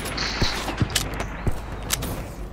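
Gunfire in a French-commentated video game shooter, several sharp, separate shots spaced irregularly over a couple of seconds, heard against constant background game noise and a faint tonal hum.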